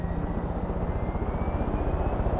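Attack helicopter in Far Cry 5, a steady rotor thump and engine drone, loud and close, running continuously with no talk over it.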